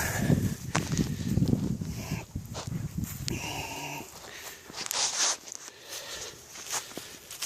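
Cows graze close by, with shuffling hooves, rustling and soft animal noises, an occasional low call among the scattered movements outdoors.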